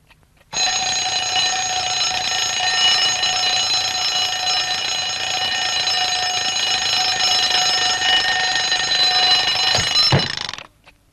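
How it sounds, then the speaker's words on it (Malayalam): An alarm clock rings continuously for about ten seconds, a loud, steady electronic tone with bright harmonics that holds unbroken before cutting off abruptly. "ഇതെന്തിനാ ഇപ്പൊ അലാറം അടിക്കുന്നു?"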